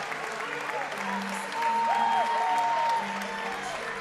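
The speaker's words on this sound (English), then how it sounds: "the crowd is actually on their feet cheering for Caitlin" An arena crowd at a Maryland at Ohio State gymnastics meet claps and cheers steadily, a broad wash of applause with a commentator talking over it.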